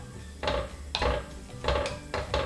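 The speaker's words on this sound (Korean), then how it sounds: "이렇게 들기름을 넣어서 볶아주시면 돼요." Seaweed stir-fried in perilla oil in a pot, with a spoon or spatula scraping and clattering against the pot in four or five rhythmic bursts, close and moderately loud.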